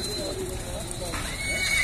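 A horse whinnies in a drawn-out, wavering call over a steady noisy background at a horse fair in Alagoas, Brazil, fairly close.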